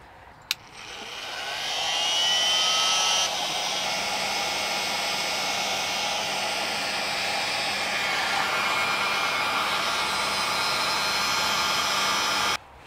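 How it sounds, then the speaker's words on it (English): A heat gun blows hot air to shrink material during a Nissan e-NV200 campervan conversion, with a steady, loud whooshing roar that ramps up at the start and runs continuously before clicking off near the end. "And then I'm going to get a heat gun."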